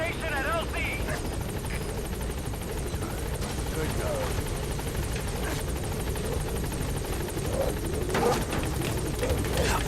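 Helicopter rotor and engine drone steadily throughout in Metal Gear Solid, a constant loud whir with game sounds layered over it and people talking on top.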